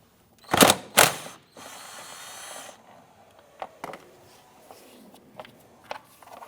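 A ratchet clicks in short bursts while loosening a 10mm bolt on a 1992-1996 Toyota Camry engine, two sharp clicks followed by a longer rapid ratcheting run, then scattered light tool taps and knocks.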